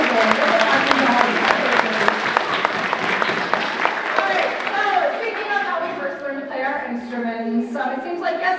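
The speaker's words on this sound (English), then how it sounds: "Give them a round of applause." Audience applause at a spring school concert honoring a performing string section, dense sustained clapping with a voice talking over it, thinning toward the end as individual claps and speech take over.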